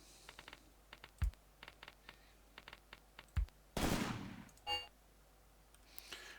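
Artillery and mortar fire in a war video game: a series of light, sharp distant thuds and clicks, two heavier booms, then a loud blast with a long fading rumble.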